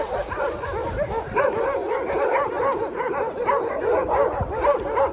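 A Cane Corso puppy barks and yips in quick bursts, mixed with high whimpers, close and loud throughout with no talking.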